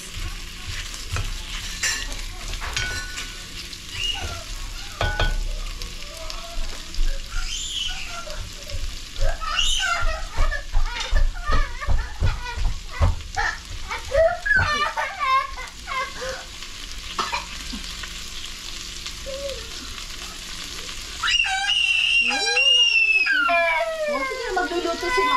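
Onions sauté in a pan for a beef kaldereta-style dish, sizzling steadily while a spoon scrapes and stirs in bursts, with a person talking over the cooking at times.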